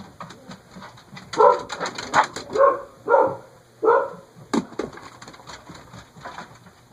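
A dog barks in a short series of muffled woofs, somewhat distant, then a final sharper bark before fading to quiet background.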